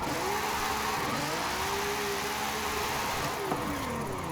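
A very powerful car in Forza Horizon 5 revs hard, its engine note sweeping up and down in repeated pulls, loud and close throughout.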